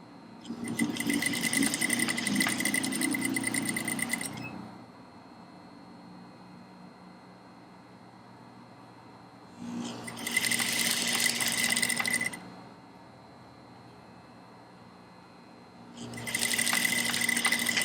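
An industrial sewing machine stitches through about eight thick layers of muslin in three loud, fast bursts of rapid mechanical chatter separated by quiet pauses with a faint motor hum, close up.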